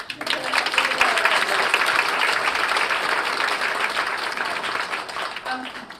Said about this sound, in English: let's give Rumman a loud round of applause